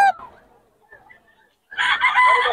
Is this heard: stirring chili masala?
no